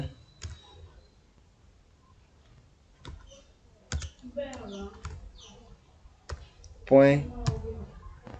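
Scattered keyboard clicks while coding HTML, a few isolated keystrokes and short bursts spread across the stretch with pauses between, close and fairly crisp, with a voice talking in between.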